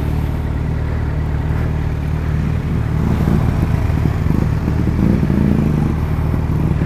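A Kawasaki Z900 motorcycle accelerates hard in second gear, its engine roaring steadily and loud up close.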